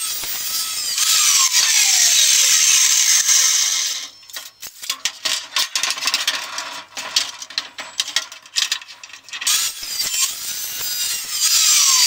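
Metal pieces for a trailer frame being cut, a loud continuous grinding cut that stops midway, followed by scattered clanks and rattles of handling before the cutting resumes near the end.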